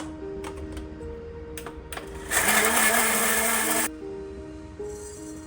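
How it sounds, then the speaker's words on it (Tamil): A kitchen blender grinds cooled peanut chutney into a soft paste in one loud burst of about a second and a half, with quieter clinks and background sounds before and after. "அது ஆறினதுக்கப்புறமா நல்ல சாஃப்டான பேஸ்ட்டை அரைச்சி எடுத்துக்கணும்"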